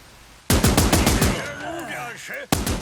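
Rapid bursts of gunfire from the video game Last Train Home, a soldier manning a mounted gun on the train: loud rhythmic shots in a close volley, then voices over quieter sound, and another burst at the end.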